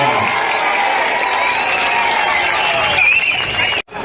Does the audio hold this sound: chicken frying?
no